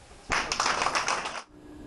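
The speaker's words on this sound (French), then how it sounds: "Alors, on applaudit au niveau de l'Assemblée générale de basketball." Applause at a basketball general assembly, a burst of many hands clapping that starts abruptly, holds steady for just over a second, then cuts off into quiet room tone.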